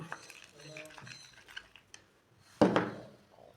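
A spoon clinks and scrapes against a bowl while stirring natural henna mixture, with soft intermittent taps and one louder sharp clatter near the end, a voice speaking lightly beside it.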